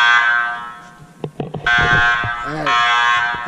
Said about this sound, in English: it looks like the fire alarm is being called